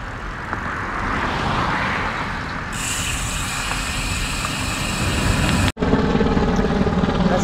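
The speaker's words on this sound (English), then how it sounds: "That's a helicopter above." A helicopter passes overhead along a Galveston seawall bike route, its steady rotor and engine drone loud and continuous, briefly cut by a sudden dropout before resuming with a strong whine.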